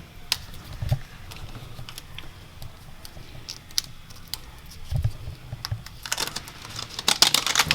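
A large zip tie being ratcheted tight around the steering rack boot on a Land Rover LR4, rapid close clicking ticks in irregular bursts, growing denser and louder toward the end, with no speech.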